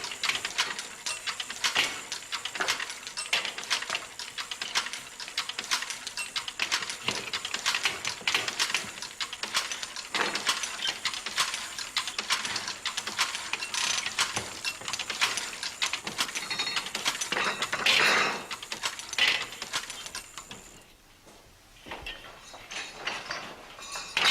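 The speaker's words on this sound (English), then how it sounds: "The threading machine can be set to supply each needle with exactly the right length of thread." An embroidery threading machine feeds lengths of thread to its needles in a workshop making Irish embroidery, with a busy mechanical clatter of rapid ticks and ratcheting clicks that runs continuously before briefly easing near the end.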